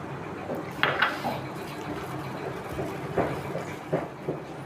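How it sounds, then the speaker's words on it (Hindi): Mustard oil is stirred into mango pickle in a bowl, giving soft wet mixing sounds punctuated by a few clinks of a spoon against the dish, moderately close with no talk. "इसमें अचार निकाल लेंगे और इसमें सरसों का तेल मिक्स कर देंगे"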